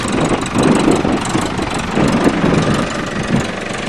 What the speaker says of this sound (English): Well, tractor runs great.